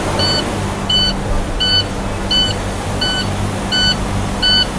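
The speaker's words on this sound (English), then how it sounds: "Alright, so we have an alarm again." Short electronic beeps from a truck's low air pressure alarm sound in a steady, evenly spaced series of seven over a loud, constant low rumble of running air system machinery.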